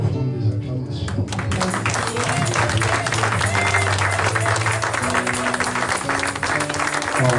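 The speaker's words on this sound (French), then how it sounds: "Nous te donnons une offrande des acclamations." A church congregation at a Sunday service claps and cheers over loud music with a steady bass line, the clapping dense and continuous throughout.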